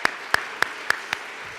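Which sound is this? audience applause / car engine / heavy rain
audience applause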